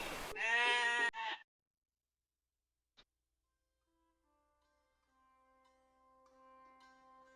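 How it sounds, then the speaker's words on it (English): A loud, wavering sheep bleat in the New Zealand countryside sounds up close for about a second, followed by near silence and faint, soft music fading in. "The sheep, with their thick, woolly coats and gentle eyes, are an integral part of this landscape."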